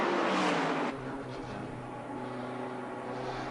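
An Indy race car from Ian Buddery's stable blasts past at a retro speedfest in Sydney, a loud close roar that peaks in the first second, then drops away into a steadier engine drone as other cars circulate.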